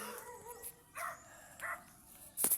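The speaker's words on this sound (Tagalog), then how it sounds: "yung malaking aso guys" Big dog barking in short separate bursts, three or four barks spaced apart at moderate distance, fairly faint against a quiet background.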